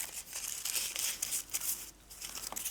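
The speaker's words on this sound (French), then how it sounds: "Et vous déchirez des petits bouts. Vous comblez des espaces où il n'y a pas de papier." Paper being torn into small pieces while covering a mini album structure for a leather-effect finish, giving soft crinkling and ripping bursts close by, steady throughout with no talk.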